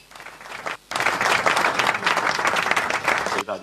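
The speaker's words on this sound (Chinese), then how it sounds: "掌声鼓励一下" A live stand-up comedy crowd breaks into loud applause, dense clapping that swells suddenly and holds for about three seconds before cutting off.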